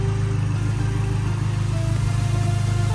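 Dodge SRT-4 engine idling steadily after a short run, a close, even low rumble with a fine periodic pulse, no voices over it.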